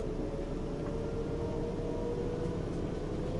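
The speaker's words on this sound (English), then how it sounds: "Why do German trains have to have such a boring horn?" A German train horn in the Train Sim World 2 simulator on the Munich–Augsburg line gives a flat, steady tone held throughout over a dull rumbling background.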